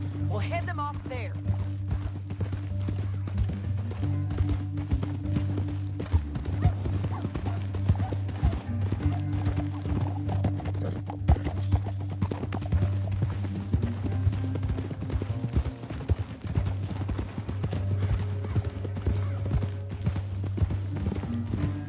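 Horse hooves galloping in Red Dead Redemption 2, a fast continuous clip-clop of several horses running along a canyon trail, with a low rumbling score and voices talking over it.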